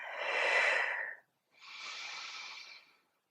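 Two long audible exhales during a kneeling single-leg stretch, breathy and airy, each about a second, separated by a short pause, close and alone with no talk.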